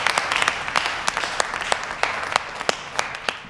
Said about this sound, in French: cette fameuse scène de l'applaudissement lent dans la prison, quand Gordon est promu, était totalement improvisée par Ledger